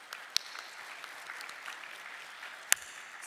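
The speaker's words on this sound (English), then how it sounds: "Let's give another round of applause." Audience applauding at a conference breakfast: a steady, moderate wash of clapping from a room of people, with a couple of sharp louder claps standing out, no talking over it.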